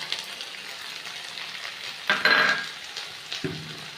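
Ginger-cumin spice paste fries with mixed vegetables in hot oil, giving a steady sizzle and a louder burst of spitting and stirring partway through, close and with no voices.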